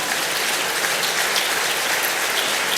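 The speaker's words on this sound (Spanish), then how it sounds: "Dele un aplauso al Señor." Church congregation applauding in praise, a steady dense wash of many hands clapping that fills the whole stretch at an even level, with no voices standing out.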